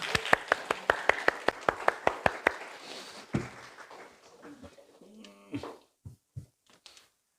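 A church congregation claps in steady rhythm to welcome the pastor, the claps thinning out and stopping midway, followed by quiet shuffling, a few soft knocks and faint voices.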